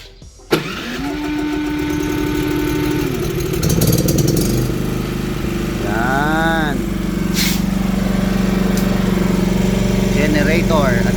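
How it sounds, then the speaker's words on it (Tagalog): A generator engine starts with a sharp catch and settles into a loud, steady running drone that holds throughout, with a few brief tonal sweeps rising and falling above it. "generator"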